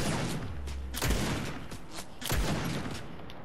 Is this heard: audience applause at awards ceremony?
no